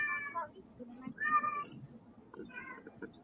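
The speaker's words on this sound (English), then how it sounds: "this cat will shut up." A cat meows insistently, three drawn-out cries spaced about a second apart, close and fairly loud over low background murmur.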